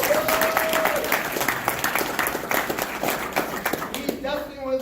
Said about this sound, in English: Give it a hand clap for the kid.